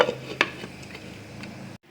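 Drumstick leaf soup bubbles quietly in a pot as a lid clanks down once near the start, leaving a low steady simmer that cuts off abruptly at the end.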